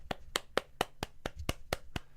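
Hands clap in a steady, even rhythm, about four claps per second, crisp and close with no voices.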